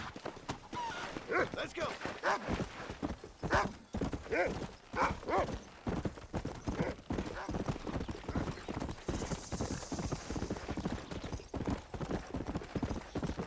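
Horse hooves clip-clop steadily through Red Dead Redemption gameplay on PS5, with occasional whinnies, as someone talks over the rhythmic gait.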